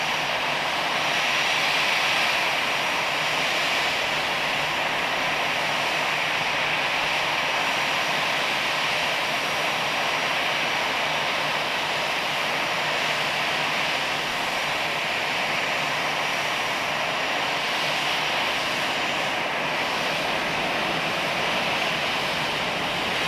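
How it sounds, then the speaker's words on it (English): A low-flying airplane passes close over the water in a long, loud, sustained engine roar that holds steady throughout, with faint surf-like wash beneath and no talking. "This plane flying really close to the water."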